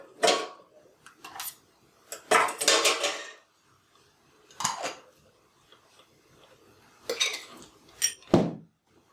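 Ice cubes dropped into a metal cocktail shaker for a pisco sour, giving several loose rattling clinks and clatters in bursts, close and fairly loud with quiet gaps between.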